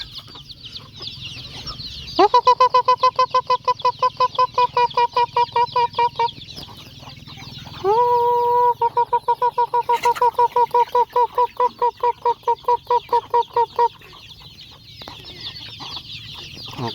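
Chickens cluck in two long runs of rapid, evenly spaced calls that are loud and near, with a short gap between them and faint background noise underneath.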